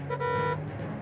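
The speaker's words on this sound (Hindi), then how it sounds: "हॉर्न बजाना बंद कीजिए" A single short car horn blast, loud and close, sounding for about half a second over low traffic rumble.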